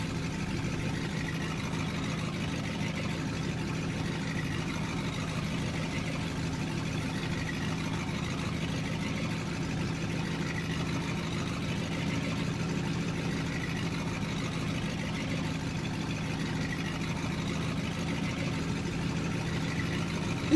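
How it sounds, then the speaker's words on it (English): A steady, low rumbling truck engine in Farming Simulator 17 idles without change, sounding like a gas rather than diesel engine, a constant mechanical drone at moderate volume throughout. "It kind of sounds like a gas engine instead of a diesel engine"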